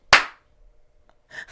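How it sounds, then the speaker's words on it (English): A single sharp hand clap rings out alone and close, followed a moment later by a softer, shorter partial clap, the "half," with near silence between them. "A clap and a half."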